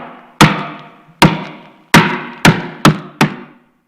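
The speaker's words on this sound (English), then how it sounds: "use the big old hammer" A big hammer strikes something at a school board meeting, six sharp, loud blows in an uneven series, each with a short ringing decay, with no talk.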